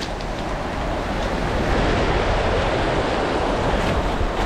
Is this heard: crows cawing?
no